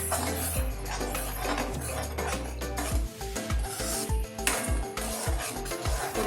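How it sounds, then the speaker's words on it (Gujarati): Cooked vegetables and mixed dal khichdi are stirred together in a pot, giving continuous scraping and mixing sounds with a busy, steady background throughout. "હવે આપણે એમાં ખીચડી ઉમેરીશું। હવે બરાબર મિક્સ કરી નાખીશું।"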